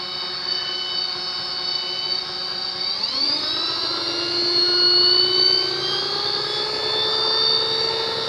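An electric bike motor running on increased voltage whines steadily, its tone sweeping upward in pitch as it spins faster and then holding a higher, louder whir, close and alone.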